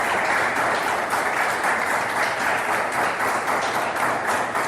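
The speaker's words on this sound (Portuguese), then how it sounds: "Aplauda o Senhor Jesus, glória a Deus." Church congregation applauding after a sermon on Job, a continuous loud roll of many hands clapping that holds steady from start to finish with no talk over it.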